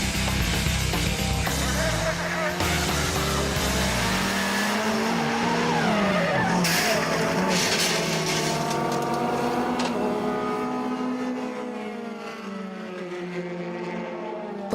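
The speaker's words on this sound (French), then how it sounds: "Pendant que les pilotes font la course" Race cars run laps on a circuit, engines roaring and rising and falling in pitch as they pass, with a faint tyre squeal, a steady loud motorsport din that fades slightly toward the end.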